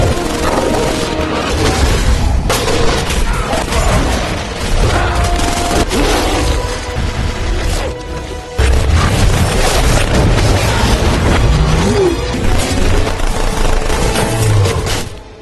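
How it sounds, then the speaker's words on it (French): Gunfire of silver bullets fired at werewolves in an Underworld film battle, dense volleys of booming shots and crashes layered over a loud, continuous action soundtrack. "Armés de balles en argent, ils tirent sur les lycans."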